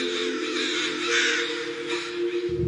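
A group of crows gathered around a dead crow, cawing continuously and loudly in overlapping calls with no pauses, their chorus swelling in the middle before continuing.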